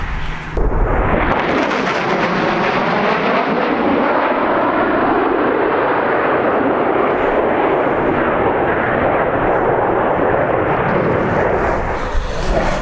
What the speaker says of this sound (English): So that's the unmistakable sound